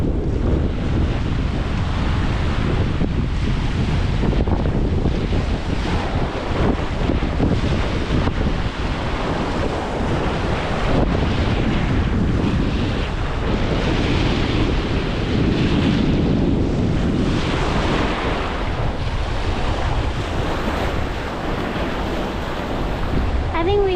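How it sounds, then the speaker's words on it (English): Surf rolling in and wind buffeting the microphone at Bikini Beach in Phan Thiet, Vietnam, forming a loud, steady wash of breaking waves and gusts that carries on without a break. "this is Bikini Beach here in Phan Thiet"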